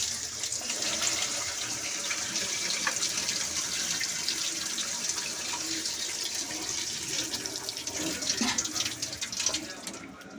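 Hot water pours off parboiled rice for veg dum biryani, a steady close splashing stream that runs for about ten seconds with faint background voices.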